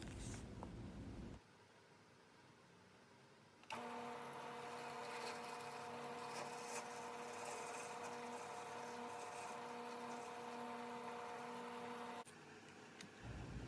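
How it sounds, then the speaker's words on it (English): A power drill bores bolt holes into a wooden router table fence, a steady whining drone with a tonal hum lasting about eight seconds, loud and close, preceded and followed by quieter workshop room noise. "I will drill them to a depth that will go most of the way through the fence"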